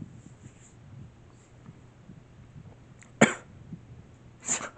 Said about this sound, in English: I had cookie dough and I drank something and then I coughed